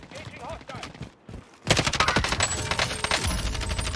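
Kilo rifle gunfire in the video game Warzone on Rebirth Island, a few sparse shots and then a dense burst of rapid automatic fire that continues loud and close, with a voice speaking briefly at the start.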